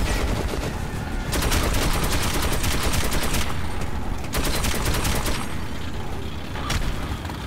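Sustained automatic gunfire in the video game Metro 2033, loud bursts of rapid shots rattling almost continuously with brief pauses between volleys, dense and close throughout.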